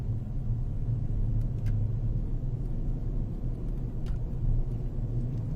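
Car driving onto the I-4 highway, with steady low road rumble and engine drone throughout, fairly loud and unbroken, no voices.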